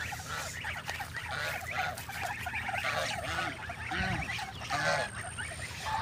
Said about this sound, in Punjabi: ਆਹ ਵੇਖ ਸਕਦੇ ਹੋ ਡੇਰੇ ਬੱਤਖ ਵੀ ਬਹੁਤ ਜ਼ਿਆਦਾ ਨੇ